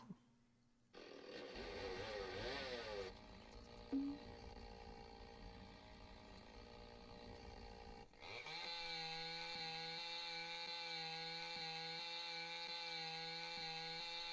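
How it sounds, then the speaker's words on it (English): Chainsaw cutting a tree in the video game Lumberjack Dynasty: a steady, loud motor drone with a strong harmonic buzz that runs from about the midpoint to the end, after earlier rustling and scraping noises. "Now pick up the chainsaw."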